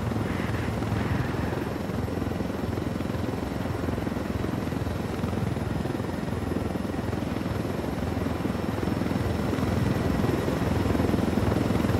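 A helicopter in the video game Ghost Recon Wildlands, a continuous loud rotor drone with dense low throbbing, steady and unbroken with no talk over it.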